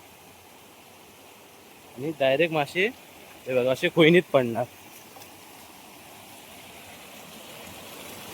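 Water runs steadily through a narrow channel into a fish trap set on a downstream flow, a soft continuous rushing wash that carries on beneath someone speaking nearby.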